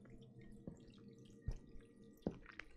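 Water dripping from a tap in the horror game Visage, three or four distinct, soft plinks spaced unevenly against a quiet, dim background hum.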